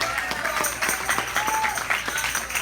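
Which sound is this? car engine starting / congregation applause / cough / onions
congregation applause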